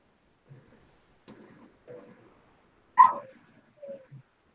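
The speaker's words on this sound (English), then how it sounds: "Is that her dog?" Dani's dog Charlie gives a few faint, scattered yelps or short barks, the loudest one near the middle, with quiet pauses between them.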